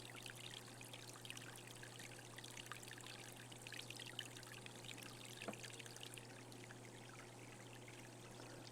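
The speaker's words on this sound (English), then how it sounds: "Look how the water trickles over the boulders." Water trickles over boulders in a rocky stream among eroded, root-lined banks at Aguirre Springs, a steady faint wash and dribble with a constant low hum beneath and no voices.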